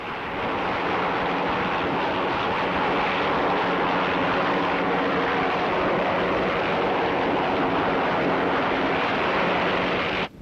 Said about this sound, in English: Every day a helicopter delivers the state papers to the Britannia.